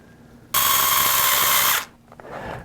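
A power driver fastens a servo mount onto an RC axle for a CEN HL150 or B50 build, giving one loud, steady high whine for just over a second, close by, then stopping abruptly.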